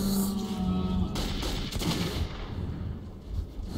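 Gunfire from a revolver rings out in the video game Metro 2033, a few loud sharp reports in the first half followed by lingering noisy echoes.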